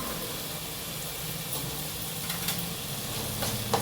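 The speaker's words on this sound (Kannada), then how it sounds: "ಶುಂಠಿ ಬೆಳ್ಳುಳ್ಳಿ ಪೇಸ್ಟ್ ಹಾಕ್ತಾಯಿದ್ದೀನಿ" Ginger garlic paste sizzles in a pot while pulao is being cooked, giving a steady frying hiss throughout with a few faint stirring clinks near the end and no talking.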